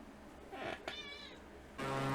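A pet cat gives a short, chirpy meow followed by a longer drawn-out one, close and fairly clear, over steady room noise that swells near the end.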